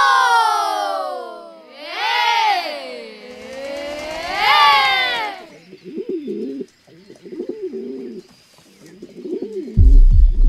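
Pigeons in a school stage performance: loud, swooping voiced calls imitate the birds' cooing at first, followed by softer, rolling coos in short bursts and a thump at the end.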